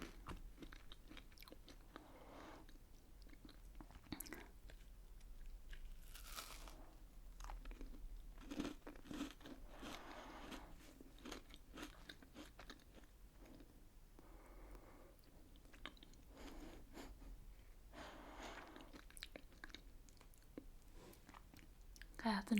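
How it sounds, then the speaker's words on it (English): A crunchy banana toffee biscuit being bitten and chewed close to the microphone, quiet crisp crunches and mouth sounds repeating steadily, with no speech. "That's a better crunch than the jammies."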